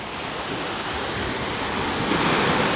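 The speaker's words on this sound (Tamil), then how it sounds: "வெறும் அலை சவுண்டு எதுவுமே இல்லை" Sea waves break and wash steadily onto a shore by stone steps at Cat Ba, Vietnam, a continuous broadband roar that swells slightly louder near the end, with wind noise and no talking.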